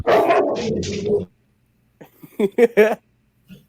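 Dogs bark loudly in a quick burst at the start, then a few fainter barks and yips follow after a short pause, with no speech over them.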